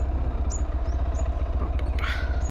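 A motorbike ride with a low, steady engine drone and continuous road rumble, heard close and constant throughout, with faint higher sounds passing over it.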